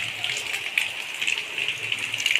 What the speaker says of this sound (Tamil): பாருங்கள் ஃப்ரெண்ட்ஸ், மொட்டை மாடியிலேருந்து தண்ணி வருது.